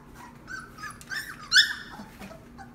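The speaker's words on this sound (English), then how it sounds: "you can hear him kind of growling and not really understanding." A young puppy of a litter, on potty paper for the first time, gives a few short, nervous growls and whimpers up close, rising and falling over about three seconds with no talk.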